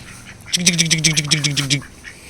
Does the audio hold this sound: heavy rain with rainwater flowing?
no